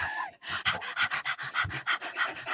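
People breathing in quick, light, rhythmic pants, imitating a puppy that has just jumped out of the sea onto sand, a steady run of close breathy huffs during a music and movement session.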